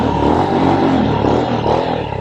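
A Royal Enfield Himalayan 411 Final Edition adventure motorcycle engine runs loud and close, revving with a continuous throaty drone over a short stretch.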